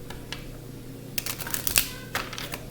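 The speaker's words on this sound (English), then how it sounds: "I'm going to shuffle them." Tarot cards being shuffled by hand: a few quick, soft riffling bursts and papery clicks, close and fairly quiet, with no talk.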